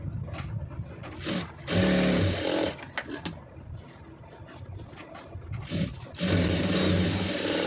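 A sewing machine stitches a strip onto the four sides of a simple blouse design. It runs in two loud, fast, close bursts of whirring stitching, with quieter handling sounds between them.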